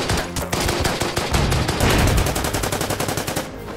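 Rapid machine-gun fire from the World War II strategy game Order of Battle WW2, a dense run of sharp, evenly spaced shots, loud and close, with no talk over it.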